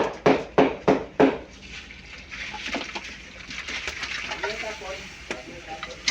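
Beef shank, pata baka, being stirred and fried in a pan: a few loud scraping clatters at the start, then a steady close sizzle with spoon scrapes and light clinks, and faint background bird calls.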